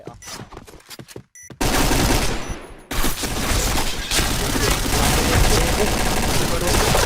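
Heavy bursts of automatic gunfire from the first-person shooter Point Blank on the Downtown map during a tournament match roar loud and continuous, and excited voices talk over the shooting.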